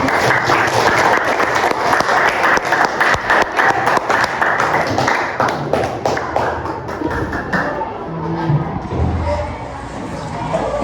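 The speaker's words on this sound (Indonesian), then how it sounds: "Tepuk tangan dulu buat Franky." Students in a school classroom break into dense, loud applause that thins out and fades after about eight seconds, leaving quieter room noise and some voices.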